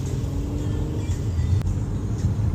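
Cars driving past on a road, a steady, fairly close low rumble of traffic with slight swells as vehicles pass.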